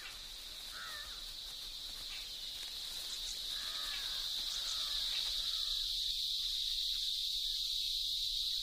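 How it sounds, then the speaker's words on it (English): A loud, steady high-pitched insect drone of cicadas fills the whole stretch in an Indian tiger jungle, with a few faint bird calls early on and no voices. "The cicada's love song is the loudest noise in the insect world."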